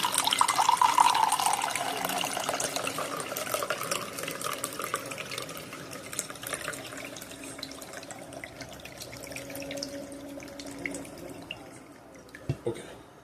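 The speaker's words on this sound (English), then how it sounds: "We pour the water in there." Water is poured with a loud splash at first, then trickles and drips more faintly over several seconds. A voice is heard briefly along the way.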